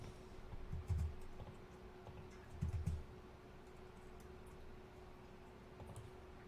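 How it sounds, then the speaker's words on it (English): Someone types on a computer keyboard in a couple of faint, short bursts of soft key clicks over a quiet room hum, with no talking. "I'm just gonna type this in"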